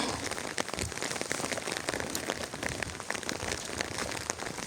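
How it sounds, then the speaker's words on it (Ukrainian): Steady rain falls on surfaces outdoors, a dense, even patter of drops close by that runs without a break, with no talking. "і ось зараз 13 година в нас іде дощ."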